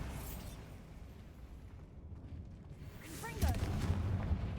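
A Bombarda blast spell in the video game Hogwarts Legacy: a muffled low boom with rumbling debris that swells near the end, heard amid quiet game ambience.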